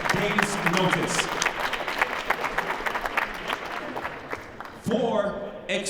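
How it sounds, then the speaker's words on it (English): Crowd applause at a Wicked N'Bad 3 fight event for two fighters after their opening bout, steady clapping with a few shouts, fading near the end as a voice cuts in. "please give a round of applause to these 2 fighters"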